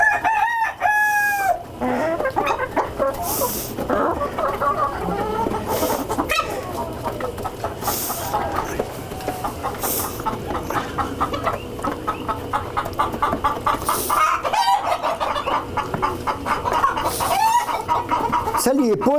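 Light Sussex chickens, black and white with black tails, cluck around a farmyard while a rooster crows several times, the crows rising clearly over the busy clucking, with people talking nearby.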